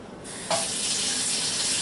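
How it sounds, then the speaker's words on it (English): A kitchen faucet turns on and runs steadily into a pan after a brief quiet moment, a close, continuous hiss of flowing water with no talking. "I'm going to fill this up with water so it doesn't dry on there."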